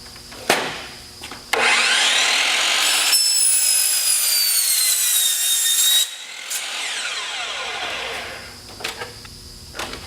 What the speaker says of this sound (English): So we're going to go ahead and make a straight cut.